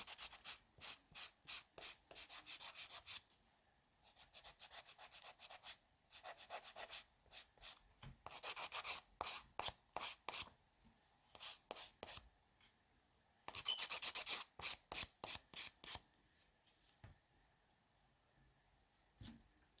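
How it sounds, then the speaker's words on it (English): Dip powder nails are filed to build an apex, producing faint, close, rapid scratchy strokes in short bursts separated by brief pauses, no voices. "I'm building an apex by just filing"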